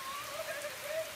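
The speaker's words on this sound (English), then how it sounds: "Oh, look at the rain." Rain falls outdoors as a soft, continuous hiss of drops hitting surfaces, faint and steady, with a thin wavering tone drifting faintly over it.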